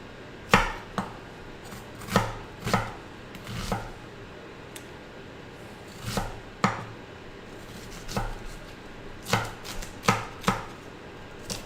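An onion is chopped with a knife on a cutting board, giving about a dozen distinct thuds in uneven clusters, close and clear against a quiet room.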